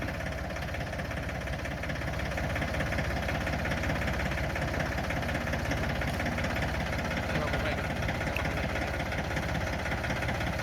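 Engine of farm machinery fitted with a scoop bucket attachment, running steadily with a dense, rumbling, slightly knocking drone that stays loud and continuous throughout, with no clear rise in pitch.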